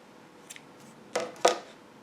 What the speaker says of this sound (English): Then turn your work over and cut the previous colored yarn.